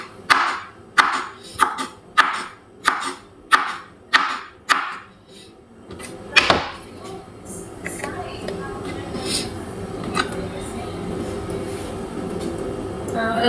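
Onions being chopped with a knife, about eight steady, evenly spaced strikes over five seconds, then the cutting stops and a busy, murmuring background with a few clatters takes over.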